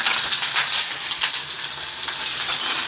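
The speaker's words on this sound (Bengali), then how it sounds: "চলো ফুলকপিটা এবার বসিয়ে দিচ্ছি।" Cauliflower florets frying in hot oil in a pan, a dense, steady, close sizzle with crackling pops running throughout, no voices.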